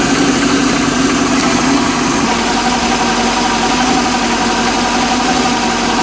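A Tohatsu 5 hp four-stroke outboard engine idles with a loud, steady, close mechanical drone and vibration that stays even from start to finish, with no voices.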